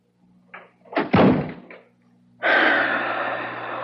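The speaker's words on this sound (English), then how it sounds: "If you want me to tell you what he said, shut the door." A door is shut in an old-time mystery radio drama, heard as a couple of light knocks and handling sounds and then a solid thunk of closing, followed by a steady hiss of room noise.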